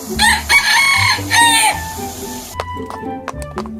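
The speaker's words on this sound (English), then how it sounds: "Rooster crowing." A rooster crows in a loud, close, drawn-out cock-a-doodle-doo, repeated in two bursts, with a few softer background clucks and other farm noises after it.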